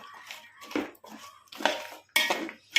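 Dried shark fish for pickle is stirred in a pan, producing several bursts of close scraping and clinking of utensil against metal separated by short pauses.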